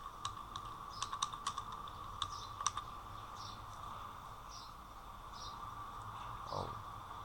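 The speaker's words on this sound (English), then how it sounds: "So at first I will type in the search bar control panel" Light keystrokes tap on a computer keyboard as text goes into a Windows 10 search bar, in a short burst and then a few scattered clicks. The sound is faint and close, over quiet room hiss.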